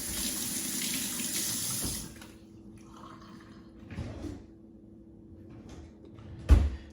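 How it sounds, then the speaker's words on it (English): Tap water runs into a sink while hands are washed, a steady rushing stream for about two seconds, then stops, followed by soft drips and handling noises and a brief knock near the end. "Wash your hands."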